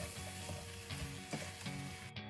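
Onions fry in a pan for a West African peanut or okra sauce, giving a steady close sizzle with spoon stirs and scrapes in a rough rhythm.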